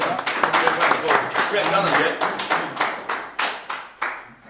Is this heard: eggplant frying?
no